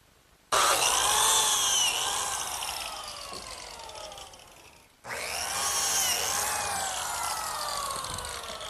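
A biscuit joiner cuts slots into the ends of wooden table runners for a kitchen work table: two separate bursts of high, whining motor noise, each starting abruptly and slowly winding down, with a brief gap between them.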